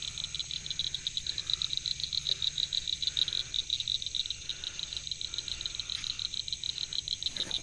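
A chorus of frogs croaks steadily and continuously, a dense pulsing trill with no pauses, fairly close and loud.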